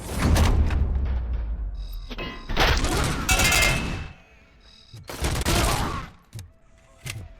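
Bursts of gunfire with ricocheting bullets in Robocop: Rogue City, loud rapid volleys broken by short pauses, with sharp metallic pings and crashes between the shots.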